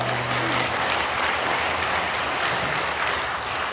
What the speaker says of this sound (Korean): 박수 보내시기 바랍니다